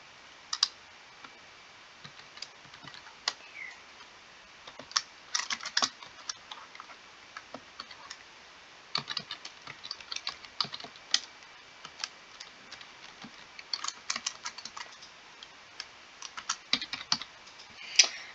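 Slow typing on a computer keyboard, irregular clusters of light key clicks with pauses between bursts, close and fairly quiet, no talking.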